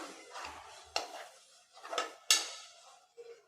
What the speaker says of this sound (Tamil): இப்போ இதை நல்லா ஒரு தடவை நல்லா கலந்து விட்றலாம்